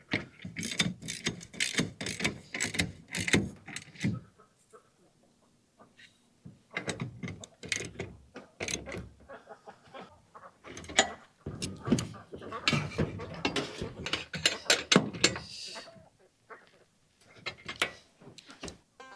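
Ratcheting wrench tightening a solar panel rail onto IntegraRack IR-D1 self-sealing brackets on a metal roof, rapid clicking bursts repeating in several runs with brief pauses, close and moderately loud.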